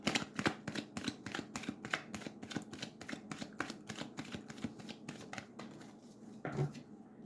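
Tarot cards are shuffled and handled in a quick run of crisp, close riffling flicks and snaps. Near the end the card noise thins out into a few softer slides and taps, with no talking over it.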